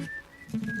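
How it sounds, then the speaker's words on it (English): A character in the video game Animal Crossing whistles a short tune of a few clear, thin tones, broken by a brief gap, with soft game sounds underneath. "Not the whistling."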